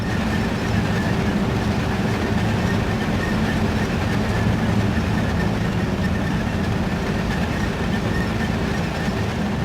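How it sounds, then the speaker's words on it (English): A loud, steady rumbling T-55 tank engine drone in the video game WarGame: Red Dragon, with a deep mechanical growl, continuous and close, with no talking. "Here's one of the T-55s. It's pretty loud"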